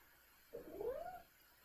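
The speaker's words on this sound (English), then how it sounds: "My cat's telling me something." A single drawn-out cat meow, rising then falling in pitch and lasting under a second, heard fairly close over quiet room background, with no talking.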